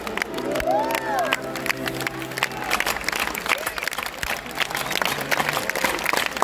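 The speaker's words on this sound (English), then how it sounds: "Clap along if you feel like a room without a roof" Stadium crowd at a rock concert in Estadio San Marcos, Lima, clapping along and cheering in a steady, dense wash of applause with crowd noise throughout.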